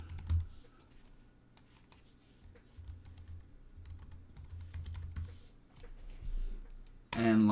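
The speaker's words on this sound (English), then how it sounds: "Put in your username and password." Typing a username and password on a computer keyboard, a quiet run of light, irregular key clicks over several seconds, with a faint background hum and a brief louder noise at the end.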